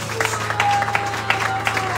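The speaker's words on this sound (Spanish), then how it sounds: "Aplauda a Cristo, pues." Congregation applauding at a church service for youth at a foundation, a steady mid-level patter of hands over a constant low hum, with faint tonal sounds and voices mixed in.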